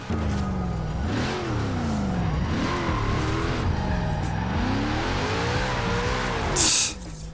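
A Ford Ranger Raptor in Forza Horizon 4 slides on the handbrake, its engine revving and falling in repeated sweeps while the tires squeal. The sound stays loud and continuous and ends in a brief bright burst.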